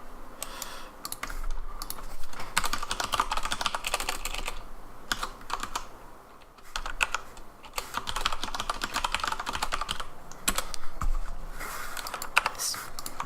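Rapid clicking keystrokes on a computer keyboard, near and steady, in bursts separated by brief pauses, with faint talk in the background.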